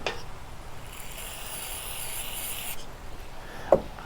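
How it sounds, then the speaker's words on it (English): A towel rubs and wipes across parts of a Honda HRR216 lawn mower sprayed with CRC brake cleaner, a steady close scrubbing rasp that fades near the end, followed by one brief sharp knock. "Get our towel, get some brake clean."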